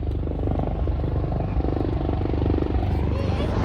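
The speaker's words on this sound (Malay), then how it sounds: "Helikopter parking sini." A Royal Malaysian Air Force helicopter arriving at an air force anniversary event, a loud continuous low rotor and engine drone close by, steady throughout with crowd noise in the background.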